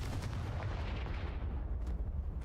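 A deep, rumbling blast fills the scene as the Confringo fire spell explodes in Hogwarts Legacy, a dense low boom with crackling debris that stays loud throughout before thinning slightly near the end.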